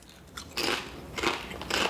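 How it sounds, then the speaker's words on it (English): Three crisp bites into crunchy taco-seasoned chips from Asia, sharp crackling crunches close to the mic in quick succession. "This thing is crunchy."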